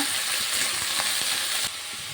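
Ridge gourd and green chilli hit a pan of mustard oil with browned onion, a bright, continuous frying sizzle close up with a few light clatters, brief and without speech.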